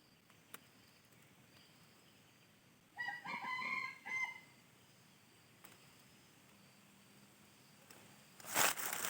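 A wild junglefowl crows at a moderate distance in a quiet outdoor setting, one drawn-out call in the middle of the clip, followed later by a loud close rustle.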